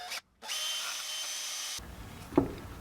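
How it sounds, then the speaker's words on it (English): A power drill bores joint connection pilot holes in a hand-built bluegill swimbait, a steady high whine running about a second and a half after a brief pause, then cutting off to a quieter workshop with a faint knock. "Joint connection pilot holes. I'm gonna drill out."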